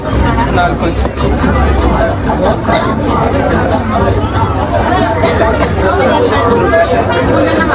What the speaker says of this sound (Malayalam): ഈ ഒരു ജനത്തിരക്കുണ്ടല്ലോ ഇത് മിക്കവാറും നേരം വെളുക്കോളം ഉണ്ടാവും